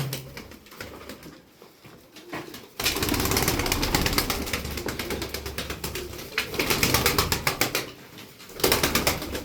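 Pigeons in a loft coo softly and then break into loud, repeated bursts of wing flapping close by, with several flurries of flapping through the middle and end.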